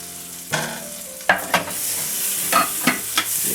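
Pressed garlic sizzles in about three tablespoons of melted butter in a pan, a close crackling fry broken by several sharp scrapes and knocks of a spoon stirring, no talking.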